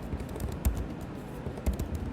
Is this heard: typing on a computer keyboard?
yes